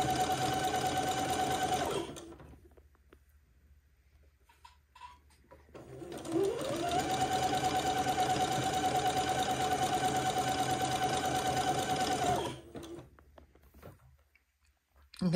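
A sewing machine stitches lace panels and sashing together for a funeral pall, running in two long steady bursts of rapid, even whirring with a short quiet pause between them, loud and close.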